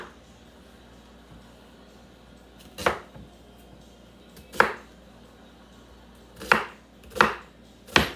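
A knife chops onions into chunks on a cutting board in a home kitchen, with five sharp, separate strikes spaced irregularly over a quiet room background.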